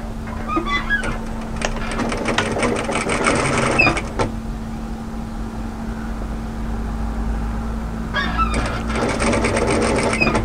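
A sewing machine stitches a cami strap in rapid mechanical bursts near the start and end, with a steady motor hum running underneath throughout.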